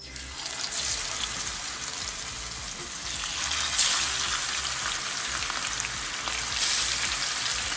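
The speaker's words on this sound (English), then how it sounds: "I've got some olive oil heating in the pan here, and I seasoned my fish on both sides" Seasoned fish fillets fry in hot olive oil in a pan, giving a loud, continuous crackling sizzle with brief surges of spattering and no speech.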